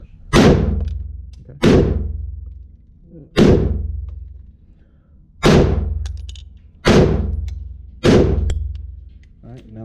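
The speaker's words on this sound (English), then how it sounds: "So it's really a function test to see how well this trigger is, first of all. So we're gonna do 6 shots." Six loud, close gunshots from a rifle fitted with a forced reset trigger, fired one at a time at uneven intervals of about one to two seconds, each a sharp crack with a booming decay. A voice speaks once briefly.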